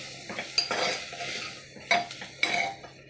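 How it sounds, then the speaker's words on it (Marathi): Ground masala being sautéed in a pan for khichdi, with a few sharp metal scrapes and clinks of a spoon against the pan over a soft, low sizzle, close and without talk. "त्यात हे वाटलेलं मसाला घालते पुन्हा छान परतून घेते"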